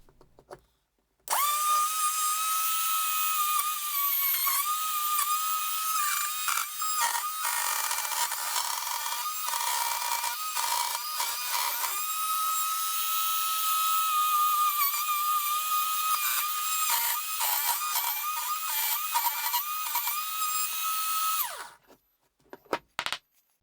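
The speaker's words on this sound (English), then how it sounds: "I took my router with compass and adjusted it to the diameter of the bottle." Wood router on a compass jig cutting a circular opening for a bottle holder, a steady high whine that runs loud and close for about twenty seconds, wavering slightly as it bites, then winds down.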